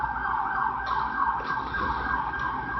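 A wailing siren cycles up and down continuously, with steady traffic rumble underneath; fairly loud and close, no voices.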